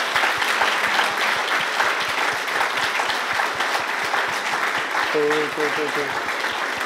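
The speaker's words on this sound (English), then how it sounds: "Can I get a very, very big applause for my three guests tonight" Audience applause at a Berlin startup tech talk show, a steady dense clatter of many hands clapping throughout, with a brief spoken thanks near the end.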